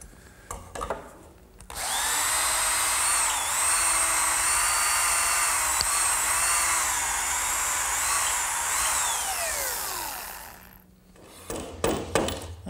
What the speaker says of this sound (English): I want to drill two more holes right up through these 2x4s